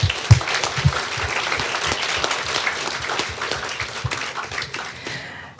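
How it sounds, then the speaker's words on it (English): Applause from an afternoon artist showcase audience, a dense patter of many hands clapping steadily for about five seconds before trailing off, with a few louder claps near the start. "Let's give them a round of applause."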